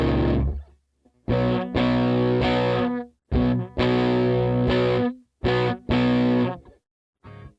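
Distorted electric guitar through a Headrush Flex Prime on the 59 Tweed Deluxe amp model, playing a gritty riff of strummed chords and short bursts with pauses, loud and close with no talking.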